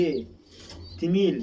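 Shami pigeons cooing in soft, low throaty bursts close by, with someone talking over them.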